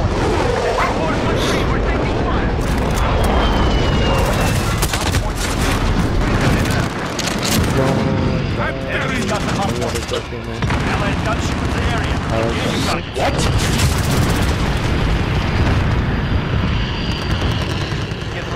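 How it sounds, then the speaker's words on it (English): Booming explosions and gunfire in Call of Duty Modern Warfare multiplayer, loud and dense throughout with aircraft engine roar, under a player talking. "I might die from explosions."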